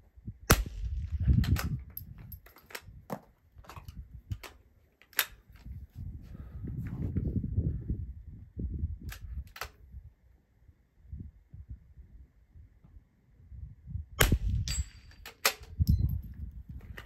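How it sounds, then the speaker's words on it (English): Scattered sharp cracks of .22 rifle shots during an NRL22 course of fire, sounding at irregular intervals over low rumbling handling noise, with a quick cluster of shots near the end. "I had a lot of fun shooting this course of fire"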